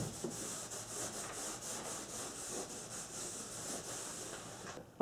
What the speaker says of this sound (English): start wiping down in the direction of the grain